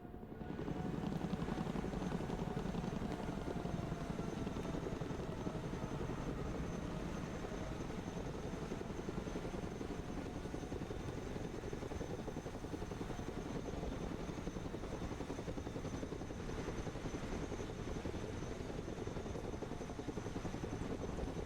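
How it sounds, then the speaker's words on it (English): A Chinook twin-rotor helicopter arrives at a drop zone in the video game Broken Arrow, its loud, steady rotor thump and engine roar filling the whole stretch without pause. "Chinook coming in."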